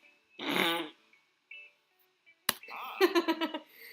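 A person blows into the crook of an elbow to imitate a fart, a scene from the video game Dream Daddy: a short raspy burst, a pause, then a longer sputtering flutter, close and alone.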